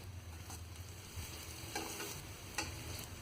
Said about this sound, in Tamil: அதையும் நல்லா வதக்கிக்கணுங்க.